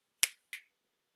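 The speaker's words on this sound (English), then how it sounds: "I'm just going to snap my fingers and we'll magically have the appropriate levels" Two crisp, close finger snaps about a third of a second apart, with silence around them.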